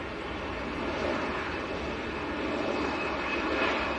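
A Lufthansa Airbus A320 roars steadily on its takeoff roll at Manchester airport, a broad continuous jet engine rumble heard from a distance, with no voices.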